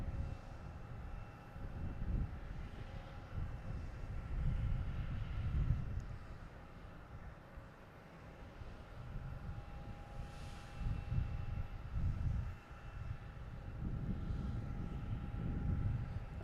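A steady airplane engine roar at Boston Logan Airport on New Year's Eve, a broad rumble that swells and eases over time, with wind noise buffeting the microphone.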